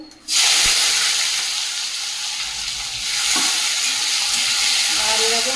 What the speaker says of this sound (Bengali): মাংসটা দিয়ে দেবো তেজপাতা কুচিয়ে রাখা পেঁয়াজটা দিয়ে দেবো